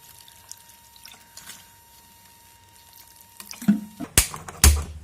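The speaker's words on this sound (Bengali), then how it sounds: "দিয়ে দেব একটু জল, অল্প একটু করে জল দেব।" Water is poured into a pan of small fish curry (chunos cooked with spring onion stalks). A quiet stretch gives way to a few short, loud splashing pours near the end.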